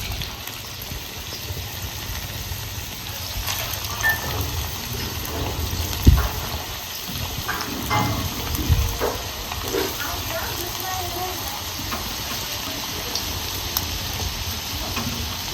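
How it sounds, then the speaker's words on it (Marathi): Village-style potato rolls deep-fry in hot oil, a steady soft sizzle and bubbling hiss running throughout with a few louder crackles and pops, close and moderately quiet. "आता आपण एक एक करून ही तळून घ्यायचं"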